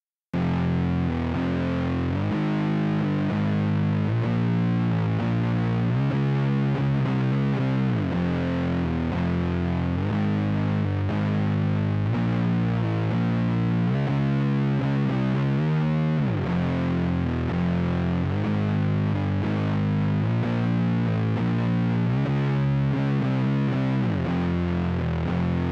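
Distorted electric guitar in C standard tuning playing a heavy, droning riff, thick sustained low chords shifting steadily and loudly for the whole stretch, with no voice over it.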